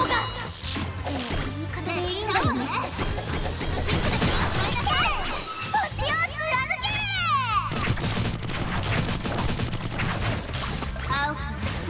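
A Gatling gun turret fires in the Figure Fantasy video game, a dense, busy stream of rapid shots mixed with game effects, sweeping electronic tones and music, steady and loud across the whole stretch.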